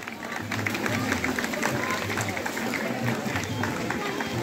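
Applause from a crowd of students and players at the opening ceremony of a school running shield event in Kavrepalanchok, Nepal; clapping runs steadily throughout, with a loudspeaker voice speaking over it.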